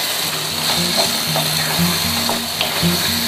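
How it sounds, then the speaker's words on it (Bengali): Chicken in a pan is stirred and mashed with a metal spatula, producing a close, loud, steady sizzle with repeated scraping strokes and faint tonal background sound. "চিকেনটাকে একটু এভাবে খুন্তি দিয়ে আর একটু মিহি করে দিতে পারো"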